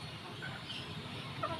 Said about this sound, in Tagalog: ang vlog ko ngayon for today's video ay ang pagpapakain ng native na manok